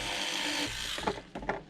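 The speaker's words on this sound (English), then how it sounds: "this is just a very small, slow speed drill" A very small, slow-speed drill runs steadily while boring a pilot hole into a hardened block, a continuous close whirring that grows rougher near the end as the bit bites.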